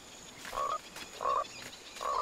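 Frog croaking in the video game Fortnite, three separate throaty croaks at an even pace, clear and alone over quiet game ambience.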